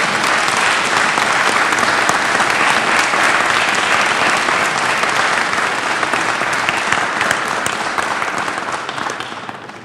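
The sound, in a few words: audience applause for legislators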